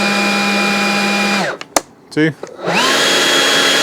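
A Stihl BGA 100 battery leaf blower runs loud and steady at its highest power setting, whines down into a brief gap with someone speaking, then spins back up to full drone.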